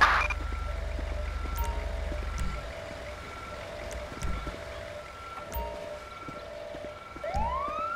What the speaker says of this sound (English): see if that's my siren going off